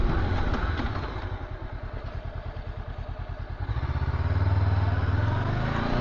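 Honda CB500X motorcycle braking from about 60, its engine pulsing in a fast throbbing rhythm that slows, then a smoother low drone rising near the end, heard up close with no talk.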